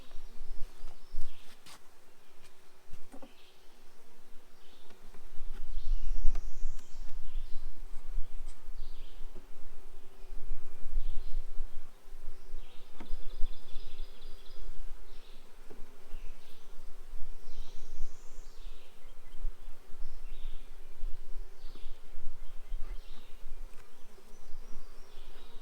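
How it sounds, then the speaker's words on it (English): Honeybees hum and buzz around an opened hive during an inspection, a continuous close drone with individual bees passing near, steady throughout with occasional bird chirps in the background. "They seem to be real gentle bees"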